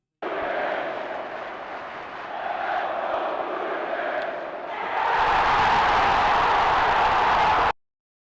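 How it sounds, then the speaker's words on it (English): A baseball crowd roaring over a go-ahead home run, a broad steady stadium din that surges louder and brighter partway through before cutting off abruptly. "listen to that crowd. George Springer hitting that go-ahead home run."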